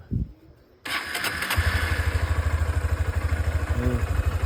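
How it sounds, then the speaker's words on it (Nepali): A motorcycle engine, unused for five months, cranks briefly, catches and settles into a steady, close, rhythmic idle with a low throbbing pulse. "स्टार्ट हुनु थाल्यो बाइक चाहिँ"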